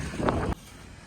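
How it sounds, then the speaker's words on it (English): Gusty outdoor wind buffets the microphone near a horse trailer, a loud rumbling burst for about half a second that cuts off abruptly, leaving faint airy background noise. "Excuse the wind. It's still bad out here."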